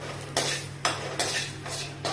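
Cumin seeds roast in a pan while a spoon stirs them, making soft scraping and metallic clinks in four or five strokes over a low steady hum from the stove.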